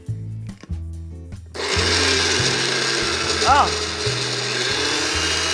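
A blender pulses watermelon toward a chunky puree, its motor whirring loud and steady after a few short stop-start bursts, with a brief voice heard over it.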